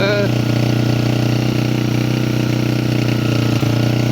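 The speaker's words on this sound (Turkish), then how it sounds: "Ha, iyice öldü motor. İyice motor öldü." A Yiben YB 50cc motorcycle engine idles roughly and close, a loud continuous low buzzing hum with a brief dip near the end, heard alone without speech.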